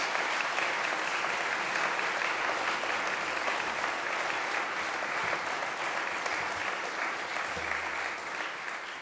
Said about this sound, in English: that might be worthy of just even a flicker of applause